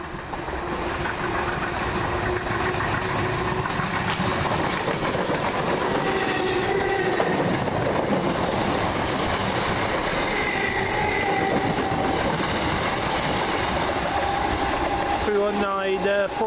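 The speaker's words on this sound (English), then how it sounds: "it's 28, First Capital Connect Express service from Bedford to Brighton." A First Capital Connect express train passes at Preston Park with a loud sustained rumble and wheel noise that holds steady throughout, ending in a brief squeal near the close.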